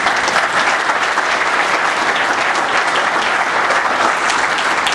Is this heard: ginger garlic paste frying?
no